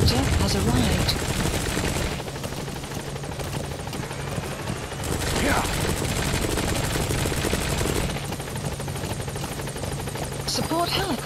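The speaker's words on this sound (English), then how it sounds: "Support helicopter has arrived." Support helicopter arriving in Metal Gear Solid V: The Phantom Pain, a loud continuous rotor drone with broadband roar that swells and fades across the whole stretch, with brief voice bits layered over it.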